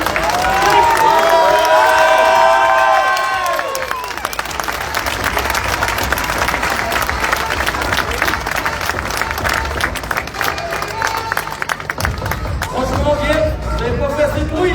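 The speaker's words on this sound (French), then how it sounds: "Je vais vous demander d'applaudir les vainqueurs de cette 51e édition du Rallye Dieppe Normandie." A crowd at the podium ceremony of the 51st Rallye Dieppe Normandie bursts into sustained applause and cheering for the rally winners, dense and loud throughout, with a public-address voice and music-like tones over it early on.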